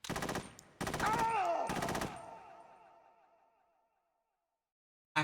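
Three short bursts of AK rifle fire from the Metal Gear Solid 2 video game, loud and close, each burst a rapid crackle of shots, with the ringing echo trailing off into silence after the last.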